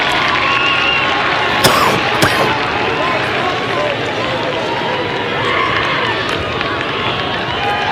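Loyola Greyhounds fans at a college lacrosse game against Johns Hopkins make a dense, steady roar of crowd noise with a couple of sharp knocks, and voices carry over it throughout.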